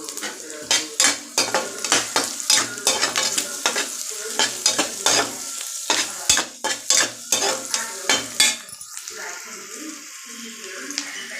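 Crushed garlic cloves sautéing with wild greens in a pan, crisp rhythmic scraping and clanking strokes over a bright sizzle, loud and close, easing to a softer sizzle near the end.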